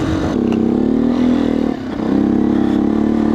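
A Beta 125 RR S dirt bike engine revs steadily nearby at a loud, buzzing mid pitch, dipping briefly around the middle before climbing back up, with no one talking.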